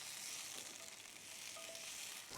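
Garlic sizzles in hot oil in a skillet during a tomato-based steak sandwich sauce, a steady, bright, close frying hiss that runs unbroken and alone.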